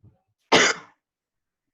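A single sharp cough bursts out in an otherwise quiet chemistry lecture, followed by a faint short vocal sound.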